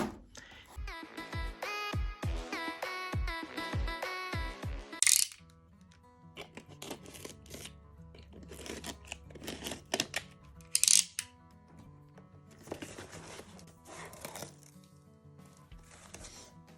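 Huawei CD23 Bluetooth mouse in olive green being unboxed: crisp plastic and cardboard clicks and rattles, a rapid run of small taps early on, then scattered handling knocks and rustles, close and fairly quiet.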